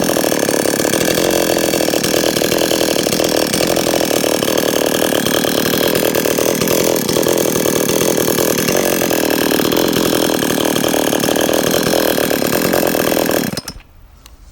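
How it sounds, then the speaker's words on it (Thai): A chainsaw engine (a 5800-model cylinder fitted to a 411 brush-cutter engine) screams at high revs, loud and sustained for a long stretch, then cuts off abruptly into quiet. "อย่าเร่งเครื่องแบบนี้นะครับ อย่าใช้รอบสูง ๆ"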